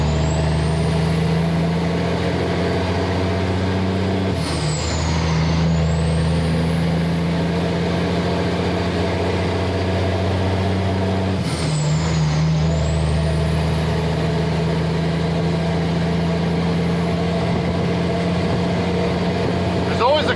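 A truck with cam and exhaust modifications pulls away in second gear of the auxiliary on hard ground, its engine droning loud and steady, with two rising whines as the revs climb and drop between shifts.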